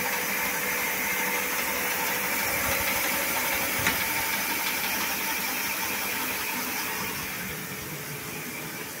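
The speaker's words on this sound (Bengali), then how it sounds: "আর থার্ড মুডের স্পিড দেখো, দেখে বুঝতে পারছো কত জোরে চলছে মোটরটা" An electric bicycle motor running fast in its third speed mode gives a steady, loud whirring hum that holds throughout and eases slightly near the end.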